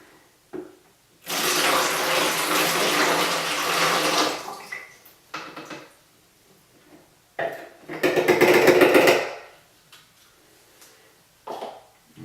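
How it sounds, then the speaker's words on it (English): C-41 film developer part A poured through a funnel into a jug, two long gushing pours of liquid separated by quieter gaps with small handling knocks, close and loud. "so here comes part A of the developer. It's going into that same jug as before, using the same funnel."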